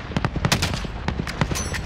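Gunfire in a team shooter game crackles in quick, loud bursts of shots. Rapid repeated cracks come close together, with brief gaps between the volleys.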